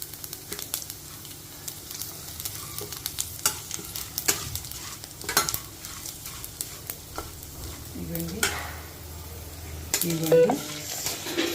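Cashews fry in hot ghee for a tempering for a tangy karonda and coconut chutney. A steady sizzle runs under repeated clinks and scrapes of a spoon stirring in the pan, with a few louder knocks near the end.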